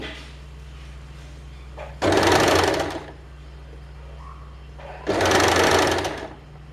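A sewing machine stitches a nighty in two short loud runs of about a second each, with a quiet background hum between them.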